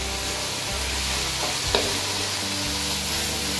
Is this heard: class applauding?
no